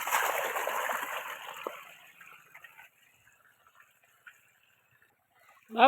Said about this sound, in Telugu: బయటకు వచ్చేస్తున్నాయి వాటర్